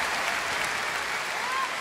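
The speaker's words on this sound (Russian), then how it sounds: "Аплодисменты!" Steady applause from a concert audience after a performance, dense and fairly loud for under two seconds.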